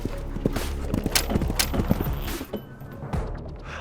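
Horse hooves on a cavalry demonstration ground, a rider charging fast for a sabre cut, with irregular thudding clip-clop beats and creaks under steady outdoor noise that thins out toward the end.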